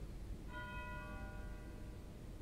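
The chimes stop of a 1926 Kimball pipe organ in the Scottish Rite Auditorium in Guthrie, Oklahoma sounds a single bell-like tone that rings and slowly decays over about a second and a half, faint beneath room hiss.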